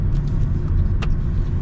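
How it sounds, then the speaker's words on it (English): Road noise fills the cabin of a new Toyota Prius while driving, a steady low rumble with tire hum, close and continuous, with no talk. "You do get road noise."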